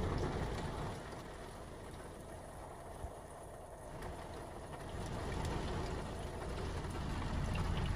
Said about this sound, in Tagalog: Pero malakas yung ulan dito.